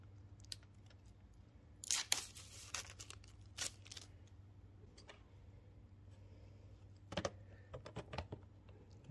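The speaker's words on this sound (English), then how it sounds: "I got to peel the film off of the back side before we use it" Protective film is peeled off the back of a welding shield lens: faint crackling, crinkling and tearing sounds come in short clusters over a quiet, steady hum.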